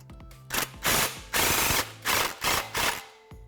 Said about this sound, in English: Again, just snug the clamp down.